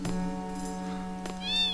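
A cat in the game Final Fantasy VIII gives a clear, drawn-out meow up close, followed by a short higher-pitched mew at the end.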